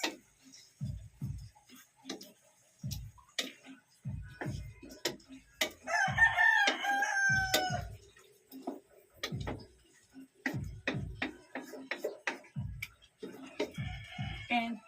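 Live chickens cluck and a rooster crows loudly at mid-clip, with sharp ticking knocks and clatter throughout, likely from a kitchen where chicken afritada is being cooked.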